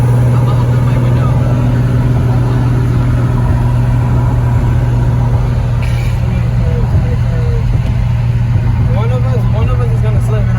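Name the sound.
manual Infiniti G35 sedan engine loudly revving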